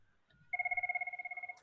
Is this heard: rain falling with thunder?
no